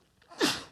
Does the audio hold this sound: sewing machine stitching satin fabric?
no